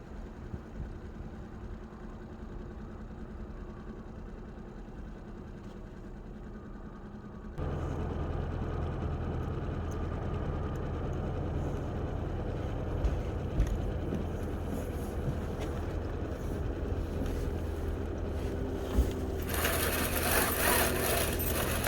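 Sailboat motoring out under its engine, a steady mid-pitched engine drone that grows louder partway through, with wind and water noise joining near the end.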